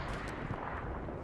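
A grenade blast in the World War II shooter Hell Let Loose: a single dull, rumbling explosion with a low, broad roar filling the short moment, heard at a moderate distance with no speech.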